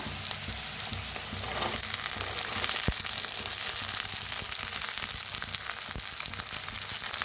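Sweet corn frying in a pan for a chilli fry gives off a steady close crackling sizzle, with a few sharp ticks of stirring scattered through.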